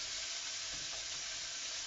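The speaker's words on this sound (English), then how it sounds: "Just gonna add the pork. I'm not adding any fat to this. Lovely little sizzle there." Pork added to a pan without fat for a curry sizzles in a steady, hissing fry, a continuous crackle that stays even and close.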